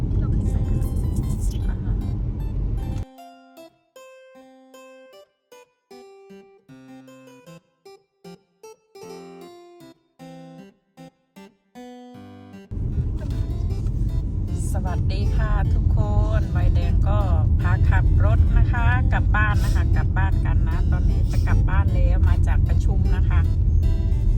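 A car driving on the road, heard from inside the cabin on an overcast rainy day: a steady low road rumble, broken by a stretch of music, with someone talking over it.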